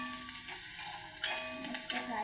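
Shredded cabbage bhaji with crushed green chilli-garlic thecha frying in a pan, a steady close sizzle with scraping stirs of a spoon and a couple of brighter clinks, no talk heard.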